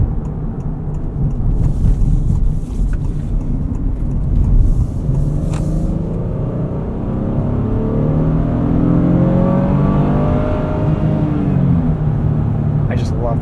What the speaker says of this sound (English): The sound of that V6.